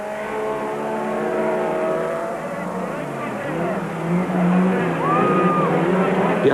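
Super trucks racing downhill in a 1997 Super Series event, engines roaring and tyres skidding as the drivers throw them through a corner, loud and close under a commentator talking.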